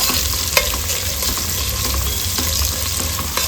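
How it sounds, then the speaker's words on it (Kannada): Onions fry in oil for a fish curry with a steady, dense sizzle, close by, broken by a few light taps of a spoon stirring as they turn brown. "ಈರುಳ್ಳಿ ಸ್ವಲ್ಪ ಬ್ರೌನ್ ಕಲರ್ ಆಗಿ ಹುರ್ಕೊಂಡ್ರೆ ಚೆನ್ನಾಗಾಗುತ್ತೆ"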